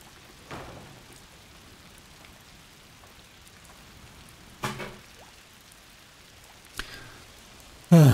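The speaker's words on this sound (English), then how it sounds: "Foul rain." Rain falling in the video game A Plague Tale Requiem, a soft steady patter throughout, broken by a few sharp louder splashes or knocks, with no voices.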